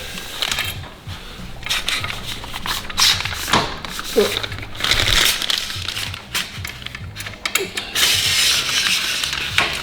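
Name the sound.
ratcheting dial being undone on a Fiamma F45s awning leg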